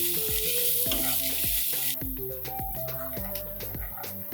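Hot oil crackles and sizzles as mustard seeds, asafoetida, diced green chillies and ginger fry in a pan, with soft clinks and scraping from stirring, close and continuous.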